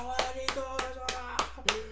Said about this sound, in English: Clap, clap for Nichols.